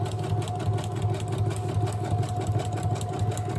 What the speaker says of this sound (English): So you're going to stitch along this hem on the right side rather than on the back side.